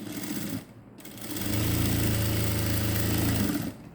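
A sewing machine stitches a button strip on a blouse made from an old silk saree, a steady close mechanical hum and whir that starts softly, swells after the first second and cuts off near the end.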